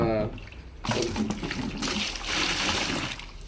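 Hot water gushes and splashes into a basin while a silk dhoti with turmeric stains is being prepared for cleaning; a close, continuous watery rush follows a brief quieter moment.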